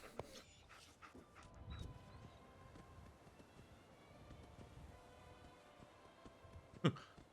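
A dog in Fallout 4 pants softly and continuously under quiet game ambience, with a brief sharper yelp or whimper near the end.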